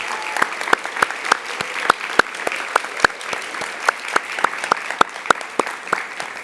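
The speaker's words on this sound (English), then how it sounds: "let us give you a big round of applause" Applause for English teachers at a university young writers' conference, a steady run of sharp separate claps from a modest group, fairly close, with a low room hum under them.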